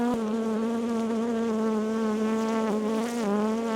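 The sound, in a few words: honey bees buzzing after being shaken from frame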